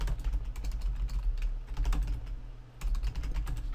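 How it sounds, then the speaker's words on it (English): Fast, steady clatter of typing on a computer keyboard, close and continuous with a brief pause near the end, over a low background hum. "I seriously can't type."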